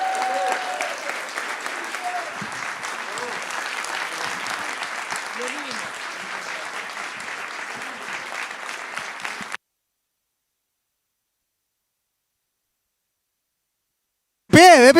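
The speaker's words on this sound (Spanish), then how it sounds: "Un aplauso al tiro" A book presentation audience bursts into sustained applause, a dense steady roar of clapping with voices mixed in, holding for about nine seconds before cutting off, then a brief loud snatch of sound at the very end.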